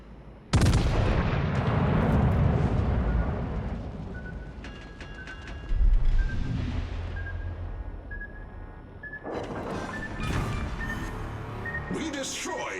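Heavy battleship guns boom in a naval battle in World of Warships: Legends, with loud salvos near the start, around six seconds and again late, while voices talk over the game sound.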